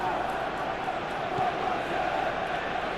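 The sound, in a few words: stadium crowd in PES football video game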